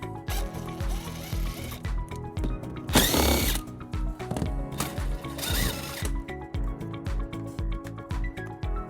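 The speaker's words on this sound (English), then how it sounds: "We're going to remove those using a 10mm socket." A ratchet with a 10mm socket backs out underbody panel bolts on a 2019 Tesla Model S. It gives steady, rapid ticking close up, cut by two louder, harsher bursts partway through.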